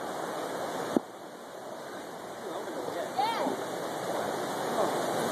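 Continuous broadband rush of river water flowing over rocks during a cold-weather swim in North Carolina, steady and close, with a sharp splash near the start and children's voices calling out over it.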